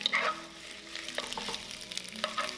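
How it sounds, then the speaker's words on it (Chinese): Fresh rice noodles fry in hot oil in a flat pan, giving a steady close sizzle with scattered scraping and stirring ticks throughout, no voices. "我们把它放到锅子里啊，用高温呢给它煎到香"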